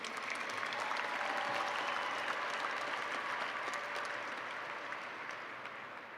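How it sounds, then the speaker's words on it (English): Sustained applause from a crowd at the 2019 Peoria High School graduation ceremony, honoring graduating students' academic achievements; steady, dense clapping that holds for the whole stretch and gradually tapers slightly toward the end. "Please applaud these students for their academic honors."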